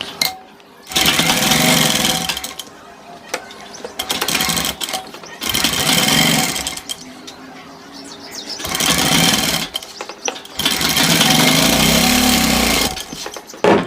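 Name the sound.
sewing machine stitching a gents kurta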